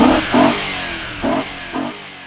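An Ineos Grenadier's 4-liter naturally aspirated engine with 420 horsepower is revved in four short, loud blips close by, each rising briefly before dropping back to a rough idle between them.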